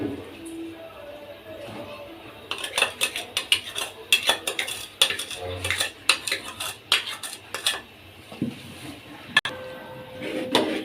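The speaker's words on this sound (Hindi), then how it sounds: "और चम्मच को हिलाते जाएंगे ताकि इसके लम्स ना बने" A spoon stirs rice kheer in a metal pot, clinking and scraping against the sides in a quick, steady rhythm after a quiet start.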